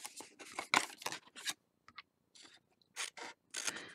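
Scissors snip through paper tabs for a Valentine's mailbox treat box, a quick run of crisp close cuts and scrapes with short pauses in between.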